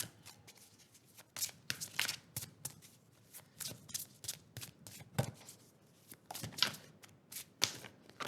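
A deck of tarot cards is shuffled by hand, a series of crisp close riffles and slaps in an uneven rhythm, with short gaps between bursts and no voices.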